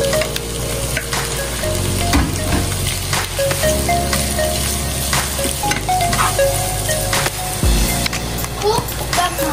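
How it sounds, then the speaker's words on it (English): Mushrooms with garlic fry loudly in a pan for carbonara-style white sauce pasta, a dense steady sizzle. Utensil scrapes and bumps cut through, and a low hum shifts underneath. "Cook the mushroom for 2 minutes."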